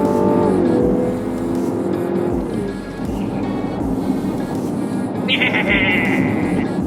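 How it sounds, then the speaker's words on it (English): A smooth petrol engine in a 2024 Mazda CX-90 SUV hums steadily at close range, with a brief higher-pitched whine near the end and no talking. "The petrol engine definitely sounds a lot nicer than the diesel. It's like a soft purr"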